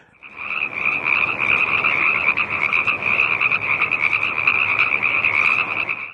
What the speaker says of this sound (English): it's just this one species of frog that makes that noise